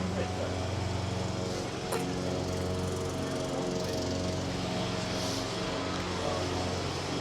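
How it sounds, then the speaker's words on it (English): Mowing machines cut the grass courts at Wimbledon with a steady, loud mechanical drone throughout, and a voice talks faintly underneath. "So they're not standard lawnmowers, are they?"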